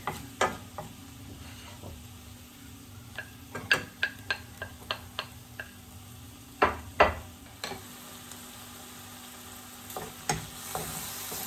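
Garlic sizzling in a frying pan for lasagna, a soft low hiss broken by scattered sharp pops and crackles, close and fairly quiet, with no talking.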